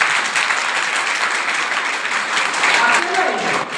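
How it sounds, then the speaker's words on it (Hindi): A congregation at a church meeting applauds for a man, a steady wash of clapping hands filling the room at moderate loudness with a voice faintly beneath. "इस भाई के लिए ताली बजाओ।"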